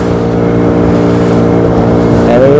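Steady loud drone of a boat engine on a river ride at Yanam, a continuous harmonic hum close by with a slight rise near the end, no voices.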